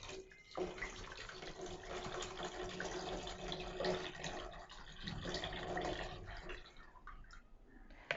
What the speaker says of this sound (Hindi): अभी मैं 1 लीटर पानी डाल रही हूँ इसमें।